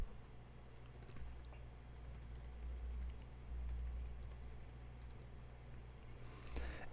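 Someone types code on a computer keyboard, faint, quick key clicks in irregular bursts over a low steady hum, with no talk.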